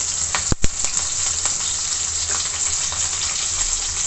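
Green chillies and curry leaves fry in hot oil with a steady, close sizzle and crackle, broken by a couple of sharp pops or stirring knocks near the start.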